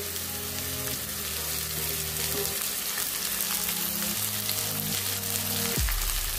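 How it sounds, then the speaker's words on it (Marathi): Chopped okra stir-frying with garlic and green chili gives a continuous close sizzle and crackle with occasional stirring scrapes, steady throughout and free of talk. "यामध्ये आपण कट करून घेतलेली भेंडी घालून घेणार आहोत।"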